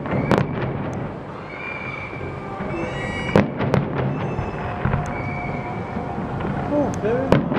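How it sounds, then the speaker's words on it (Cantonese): New Year fireworks over Yas Island burst with several sharp, booming cracks and whistling streaks spread across the stretch, set against a murmuring outdoor crowd with voices. "有煙花睇啊"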